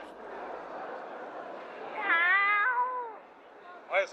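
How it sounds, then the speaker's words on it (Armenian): A cat meows at a vegetable stall in Yerevan's covered market, one drawn-out rising and falling cry heard close over the murmur of market chatter, with a short second call at the end. "Այս կատուն էլի եկավ"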